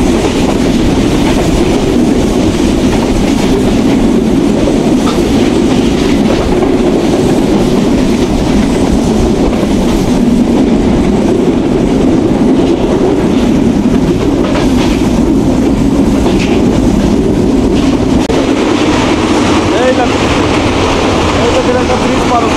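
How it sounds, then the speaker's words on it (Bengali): Banalata Express, a nonstop Dhaka to Rajshahi train, races at high speed across the Chalan Beel wetlands, a loud continuous roar with rhythmic clickety-clack of wheels, heard from inside the carriage without talk. "ভালোই লাগছে চলন বিলের মধ্যে আমাদের ট্রেন দুর্দান্ত গতিতে ছুটে চলতে"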